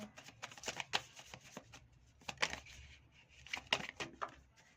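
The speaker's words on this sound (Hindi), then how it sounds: "और मैं वन मोर कार्ड लूँगी प्लीज़।" A tarot card is drawn and shuffled from a deck with soft papery riffles and slides, close and quiet, coming in uneven bursts with short pauses between them and no voice heard.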